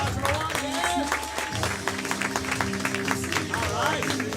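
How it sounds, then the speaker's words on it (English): A small live audience claps for a volunteer called up on stage, steady moderate applause with crowd murmur and voices mixed in throughout. "Let's give him a big round of applause."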